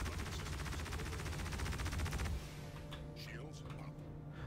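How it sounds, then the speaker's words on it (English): Turret gunfire in Star Citizen aimed at an Aegis Eclipse, a rapid even burst of shots for about two seconds that stops abruptly, followed by quieter engine hum with someone talking. "Yep, somebody's in the turret. I'm also getting shot at from behind."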